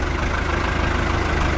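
A New Holland 5630 tractor engine idles in a steady, low, continuous rumble close by at a tractor market, with no talk over it.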